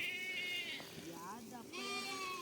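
A sheep bleats several times among trees where the flock is let out to graze, wavering calls rising and falling, fairly close, with a faint steady background murmur.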